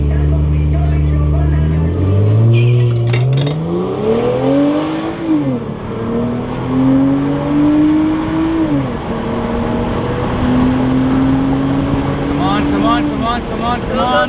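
A tuned BMW 335i on an FBO stage 2 setup with a boost leak accelerates hard, its loud engine note climbing in pitch and dropping back at each of several gear shifts, heard close up from inside the car.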